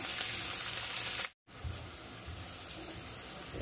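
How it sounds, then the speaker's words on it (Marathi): Onion and curry leaves sauté in a pan for a Malvani-style bhindi curry, a close, steady sizzle and crackle broken once by a brief silence before the frying noise resumes. "आपण कांदा घालून घेऊ, कढीपत्ता घालून घेऊ। छान असं परतून घेऊया।"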